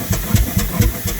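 A Herreshoff triple expansion steam engine starting up, a steady rhythmic chuffing beat of about four strokes a second over a continuous mechanical hum, loud and close.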